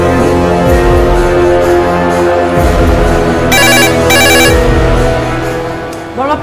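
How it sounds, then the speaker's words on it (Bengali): A mobile phone ringtone plays loudly and steadily in an indoor drama scene, with repeating melodic tones and bright bursts of ringing, and no speech over it. "না হলে কিন্তু সারাক্ষণ ফোন করতেই থাকবে। ফোনটা ধরো।"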